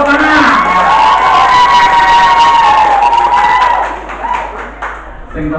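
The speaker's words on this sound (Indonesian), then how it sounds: "Semuanya tepuk tangan." Children applaud together in a classroom setting, loud and close, with crowd cheering and voices mixed in before the clapping fades toward the end.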